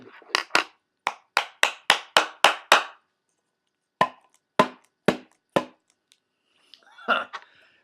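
A metal pipe tool taps and scrapes sharply at fused tobacco in a pipe bowl, a quick run of about ten close, crisp knocks, a pause, four more, then a short rustling scrape.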